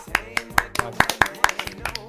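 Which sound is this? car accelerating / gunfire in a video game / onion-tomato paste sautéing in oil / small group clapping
small group clapping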